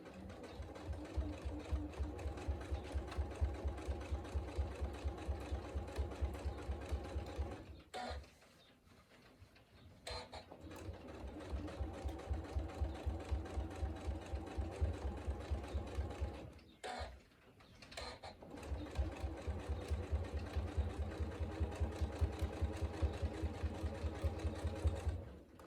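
A sewing machine stitches a fabric workshop bag in quick, rhythmic bursts, with two brief pauses between runs. The steady mechanical whir stays close and fairly quiet.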